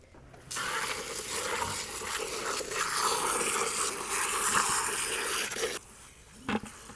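Water runs steadily from a tap into a container in a kitchen, a continuous close hiss and splash that starts abruptly, carries on for several seconds and stops just before a small clunk.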